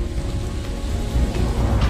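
Heavy rain pours in Delhi, a dense, loud wash of rainfall that swells a little toward the end. No voices are heard.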